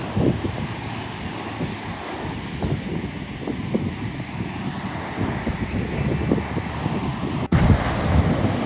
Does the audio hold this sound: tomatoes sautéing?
no